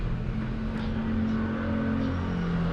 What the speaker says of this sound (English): There's a truck going.